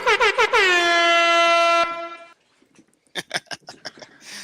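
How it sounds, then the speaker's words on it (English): A loud air horn blasts in quick short bursts, then holds one long sustained honk before cutting off, followed by a few sharp clattering hits. "Let me give you the air horn."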